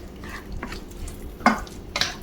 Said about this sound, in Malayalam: ഫ്രൈ ചെയ്ത് വെച്ചിരിക്കുന്ന കോളിഫ്ലവർ ഗ്രേവിയിലേക്ക് ഇട്ടിട്ട് നല്ലതുപോലെ ഇളക്കി മിക്സ് ചെയ്യാം.